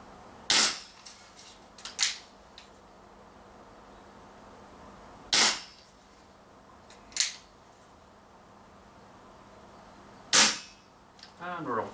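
Three sharp, loud shots from a 6mm Marlin CO2 revolver ring out several seconds apart, each followed by a fainter tick of the pellet hitting downrange, close by with quiet in between.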